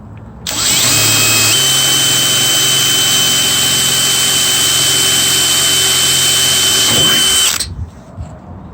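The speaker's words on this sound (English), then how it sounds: "First hole I'm drilling in the sheet metal of my precious truck." A power drill bores a hole through truck sheet metal, producing a loud, continuous high whine for about seven seconds that shifts pitch slightly early on and then cuts off abruptly.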